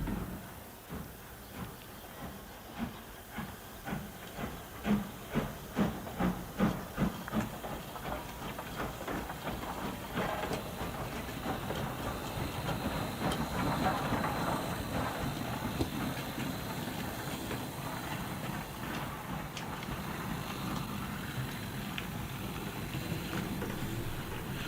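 An E2 tank steam locomotive works a train, with a run of loud, evenly spaced exhaust beats early on that blend into a steady, heavy rumble of the moving train.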